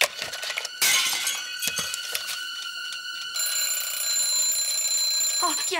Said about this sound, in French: Yasser, pourquoi tu jettes les réveils des mamans par la fenêtre?